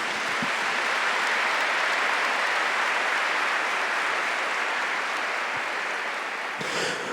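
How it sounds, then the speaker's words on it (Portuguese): Sustained congregational applause during a Catholic preaching service, dense and even clapping filling about seven seconds before cutting off abruptly near the end. "Vamos aplaudir a palavra de Deus."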